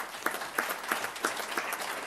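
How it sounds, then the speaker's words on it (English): Scattered applause from a school board meeting audience honoring students, with sparse distinct claps spaced at a steady beat over a thin background wash, fairly quiet and distant. "Again, let's give all these students another round of applause."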